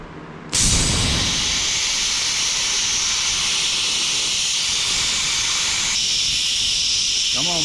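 Compressed air blasts through a truck axle tube during a build, starting abruptly as a loud, steady rushing hiss that holds for several seconds, with a brief shift partway through.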